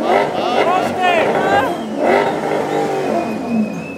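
A Maserati engine revs loudly nearby in repeated rising and falling surges, with people talking and calling out over the roar.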